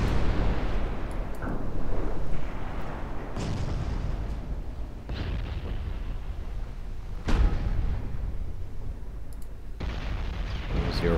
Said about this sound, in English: turret engaging